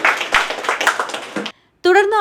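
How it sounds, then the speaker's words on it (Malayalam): A brief burst of clapping from an audience at a prize-giving, fairly close, then a short silence before a voice begins speaking. "നല്ലൊരു കയ്യടി നിൽക്കുന്നത്."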